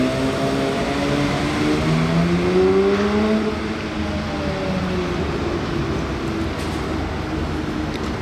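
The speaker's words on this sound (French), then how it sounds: "993 GT2 suivi de 992 GT3 RS." A Porsche 993 GT2 followed by a 992 GT3 RS drive past, a loud, continuous engine roar with rising and falling pitch as the cars pass close by, no speech.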